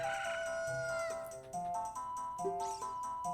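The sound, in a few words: chicken clucking in Zelda Ocarina of Time video game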